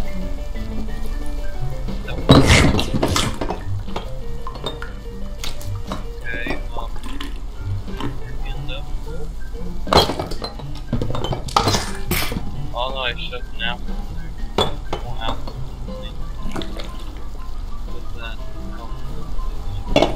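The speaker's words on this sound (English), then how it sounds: "I'm putting dishes in the sink" In the game Octodad, dishes clatter and splash as they are put in a kitchen sink, with watery sloshing and sharp clinks over a steady background while a person talks throughout.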